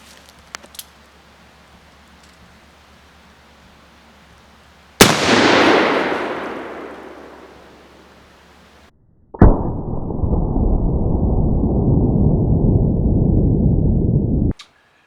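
A .44 caliber Rogers & Spencer cap and ball revolver fired at a can of shaving cream: a sharp loud crack with a decaying rushing burst, then a second loud blast that settles into a long steady hiss of spraying foam.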